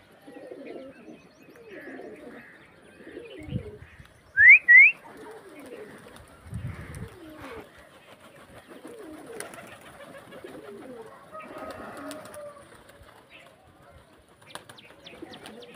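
Pigeons cooing in soft, repeated low throaty phrases close by, with a couple of sharp whistle-like calls midway and a faint voice in the background.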